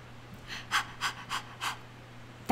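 A person imitates a dog panting with five or six rhythmic, breathy huffs at a steady pace. They are fairly close and sound alone over a low, constant electrical hum.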